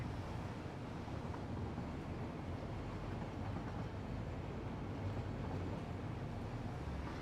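A train rolls along its track in the factory-building game Satisfactory, a steady low rumble with wind-like noise running unbroken throughout.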